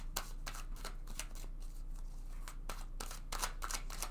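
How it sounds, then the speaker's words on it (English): Tarot cards are drawn and slid from a deck, soft papery flicks and rustles in short bursts, quiet and close, with no talking. "Let's take another card for them."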